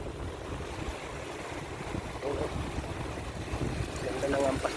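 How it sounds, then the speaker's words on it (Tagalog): Sea waves wash onto a rocky shore at a stone-strewn coastal spot, a steady surf roar with wind buffeting the microphone, swelling slightly louder toward the end. "Ganda ng ampas ng alon no?"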